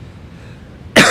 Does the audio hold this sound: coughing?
yes